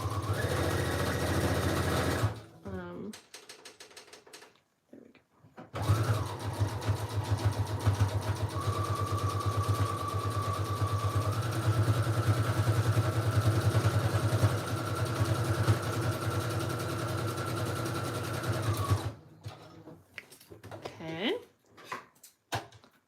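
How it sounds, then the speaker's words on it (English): A sewing machine sews a single straight line of stitching across a collage snippet roll, running steadily with a continuous mechanical whir for about thirteen seconds. It starts and stops around brief handling noises. "I'm gonna just sew this straight on down."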